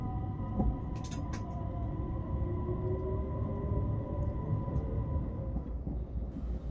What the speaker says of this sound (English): Now that the other trains have left, it's our time to go.